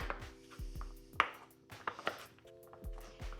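A knife cuts butternut squash into bite-sized cubes on a cutting board, with a steady series of sharp, close chops and taps, some with a faint ringing tone, all fairly quiet.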